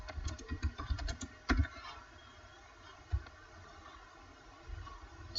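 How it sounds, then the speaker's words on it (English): Typing a chat message on a computer keyboard, with a burst of close, rapid keystrokes followed by a few isolated clacks and quieter gaps. "So I will write, "Hey Shiro, how are you?""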